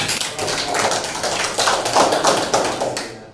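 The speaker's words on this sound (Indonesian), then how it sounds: "Oke, kasih tepuk tangan buat" A class applauding at the end of a lesson, a burst of many hands clapping close by, loud and steady with slight swells, trailing off abruptly at the end.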